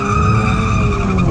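A Nissan GT-R at an import car show lets out a loud, dense roar that stays steady and unbroken for just over a second, close by, with no voices.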